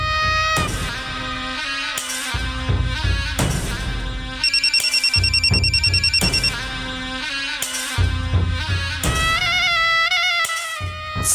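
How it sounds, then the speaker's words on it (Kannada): A telephone rings in a Kannada TV serial scene, with repeated bright electronic ring bursts and chiming tones sounding loudly over background music. "ಸಾಹೇಬ್ರದೇ ಇರಬೇಕು ಫೋನು."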